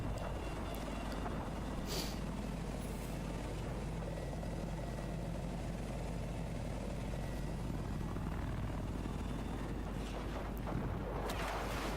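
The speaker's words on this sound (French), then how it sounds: "Est-ce qu'il va récupérer son hélico?" A helicopter drones steadily throughout a competitive video game match, its rotor and engine noise a dense, constant roar with a few brief sharper sounds on top.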